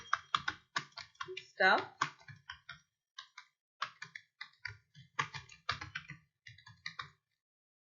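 Rapid keyboard typing clicks on a computer keyboard while text is entered, coming in short bursts with pauses, close and moderately loud, with someone speaking briefly over it.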